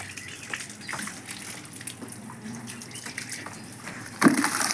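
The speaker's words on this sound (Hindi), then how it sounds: "मोटर भी अच्छे से पानी निकाल रहा है।" Water gushes steadily from a running pump motor at a rural grocery store and flour mill, a continuous splashing rush that swells louder near the end.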